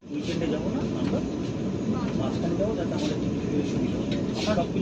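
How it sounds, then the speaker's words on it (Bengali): Vande Bharat Express 22895 running just after leaving Howrah station, a steady loud rumble of the moving train filling the carriage throughout with no break. "মাত্র তো ট্রেন হাওড়া স্টেশন থেকে ছাড়লো।"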